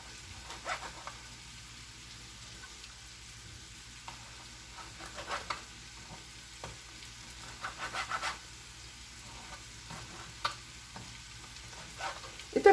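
Sauce with chicken liver and vegetables being stirred in a pan: a soft, steady sizzle with faint scraping and clinking from the spoon, quiet and close, with no voices.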